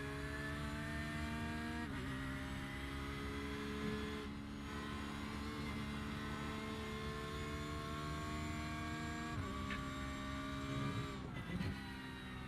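Porsche GT3R race car engine in a racing game at Barber Motorsport Park, a steady high-pitched howl with shifting revs and brief dips between gears, loud and close without talk.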